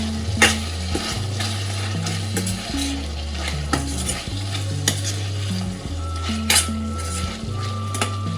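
Fried chicken curry stirred in oil in a pan, the spoon scraping and clinking against the metal in repeated strokes over a steady close sizzle, with no voices.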